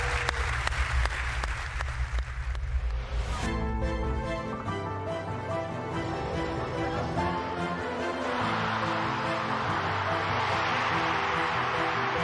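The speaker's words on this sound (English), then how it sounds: "there was so much applause in this arena that she almost joined us early" Sustained, loud applause from a packed arena crowd at the UEFA awards ceremony during the Champions League group stage draw, cheering the Women's Coach of the Year winner; continuous dense clapping fills the whole stretch, swelling as music joins partway through.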